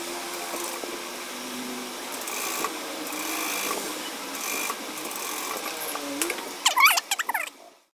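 A sewing machine stitches a tuck on a churidar top, running in a steady mechanical whir with rhythmic needle clatter, then slowing and stopping with a few clicks near the end.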